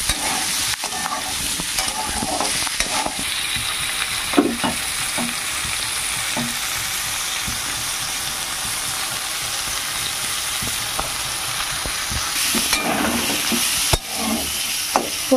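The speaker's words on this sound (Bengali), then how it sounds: "এবার হাই ফ্লেমে ভালো করে ভেজে নেব।" Pointed gourd (potol) pieces fry hard over a high gas flame, giving a steady, close sizzle with scattered crackles and the scrape of stirring throughout, no talk.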